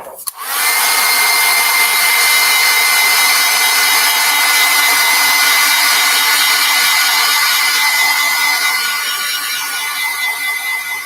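A hair dryer blows on a wet watercolor crow painting, a loud, steady, close whir that starts abruptly and runs unbroken with no voices.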